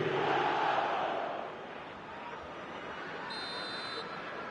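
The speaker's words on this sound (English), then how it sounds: "the crowd are reacting to that now" A stadium crowd roars in the eFootball 2026 match, loud and broad at first and then settling into a steady, slightly quieter hubbub, with a brief electronic tone near the end.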